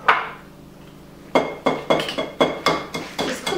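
An egg cracked against a bowl for sugar cookie dough, a series of sharp taps and clinks in a quick uneven rhythm, close and fairly loud, after a brief quieter opening.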